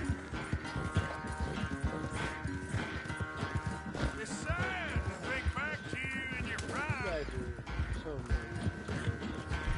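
Horse hooves clip-clop at a gallop in the Red Dead Redemption video game, a steady rhythmic pounding close up, mixed with game sounds and a whinny partway through, with a player talking over it.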